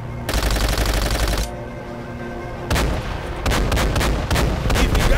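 Heavy gunfire and explosions from the video game Call of Duty: World at War: a sustained loud burst of fire, a lull, then rapid repeated shots and blasts, dense and close.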